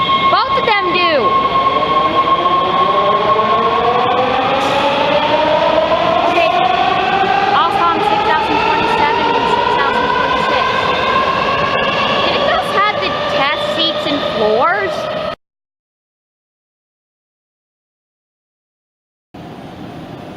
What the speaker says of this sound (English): There are 2 trains coming from the tunnels.